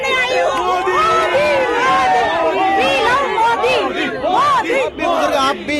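A large, dense crowd cheers and shouts at Prime Minister Modi's roadshow in Surat, Gujarat, with many overlapping voices calling out close by, loud and continuous.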